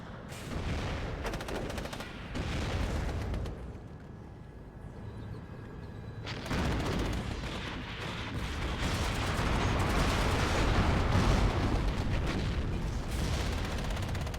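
Dense gunfire, machine-gun bursts and explosions pound a tank from every side in the WARNO strategy game, with a continuous, heavy barrage that briefly eases before swelling louder again.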